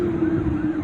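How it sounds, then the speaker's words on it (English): A police siren wails steadily in the background beside the Sheffield & Tinsley Canal near Victoria Quays, holding a sustained tone over low outdoor rumble. "Apologies for interruption by the motorbike and the police sirens in the background."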